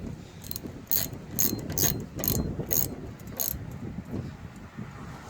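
A ratchet snugs down bolts on a 6F35 transmission in a 2013-2016 Ford Escape 2.0L AWD, giving bursts of crisp clicking in repeated strokes, about seven close pulls in a row.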